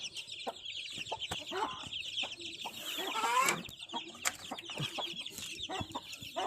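Chickens and chicks cluck and peep continuously on a farm, a busy close chorus of overlapping calls with soft scratching and movement underneath.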